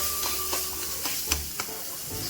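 Oil sizzles in a pan over high heat as a Bengali-style katla kalia is cooked, with a steady frying hiss broken by a few sharp clinks from stirring, close and alone.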